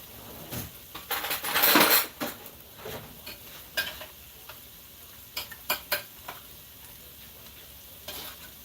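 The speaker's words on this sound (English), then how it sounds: "Stir that up." Shrimp seasoned with garlic salt and lemon juice get stirred in a pan, with clattering utensil scrapes and knocks against the pan over a soft sizzle, a loud burst of stirring early, then sparser taps.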